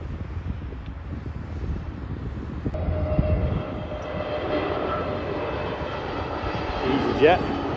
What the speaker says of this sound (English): The plane coming into the airport as well.